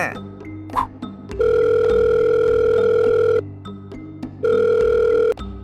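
A loud, steady telephone tone sounds twice in long stretches with a short pause between, close to the listener.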